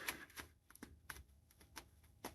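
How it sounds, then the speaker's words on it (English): Tarot cards being shuffled in the hands, a quick run of crisp papery flicks and taps in an uneven rhythm, close and fairly quiet with no talk. "I only want to get one, so I will shuffle again"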